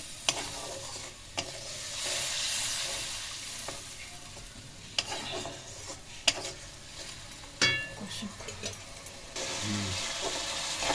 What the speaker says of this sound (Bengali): মশলাটা ভালো কষে দেবো